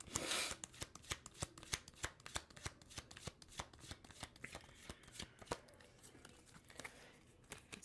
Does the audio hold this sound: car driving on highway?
no